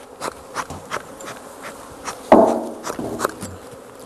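Honeybees buzz steadily at an opened hive during inspection, a close, continuous hum with a few sharper knocks and bumps from handling the frames and hive parts.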